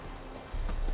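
Horse hooves in The Witcher 3 thud in a short burst of clopping that grows heavier after a quieter start, loud and close over a low game background.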